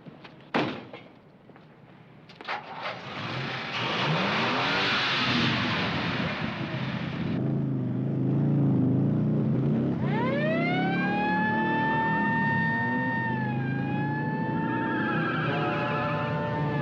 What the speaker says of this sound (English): I've got a siren